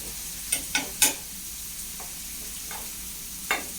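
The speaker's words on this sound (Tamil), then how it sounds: "இப்படி மேலே நல்லா சுரண்டி விடணும்." A spoon scrapes and stirs at spinach sambar with onions in a cooking pan, making a few faint, sharp scraping strokes over a soft, steady background, with no talking.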